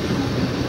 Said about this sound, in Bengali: Up Howrah Bandel local.